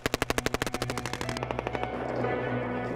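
A machine gun fires rapid bursts at a snowy hillside, loud sharp reports in a fast even rhythm that blur into dense rolling echo and rumble toward the end, with no voices.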